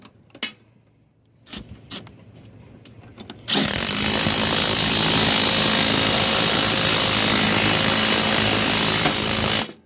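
Lowrider lower control arm bushing being pressed out with basic hand tools: a few sharp knocks and scrapes, then a loud, steady grinding mechanical noise for about six seconds before it cuts off.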